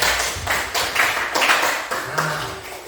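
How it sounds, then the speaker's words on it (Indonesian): A classroom of students clapping for a classmate, a series of quick, fairly close claps that come in uneven bursts over a few seconds, with no talk. "Silakan tepuk tangan untuk dia."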